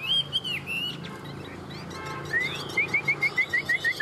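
A Chinese hwamei songbird sings nearby with clear whistled phrases, ending in a fast run of repeated bright, descending notes.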